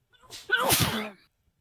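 A single loud sneeze at a Dungeons and Dragons 5th Edition Thanksgiving game session, with a short breathy intake building into a sharp burst close to the microphone, then quiet.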